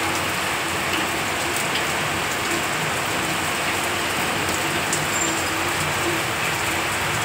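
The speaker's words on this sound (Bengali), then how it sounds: "আর বাইরে হচ্ছে প্রচণ্ড বৃষ্টি" Heavy rain falls outside in a dense, loud, unbroken hiss of drops hitting surfaces, steady from start to finish with no voices.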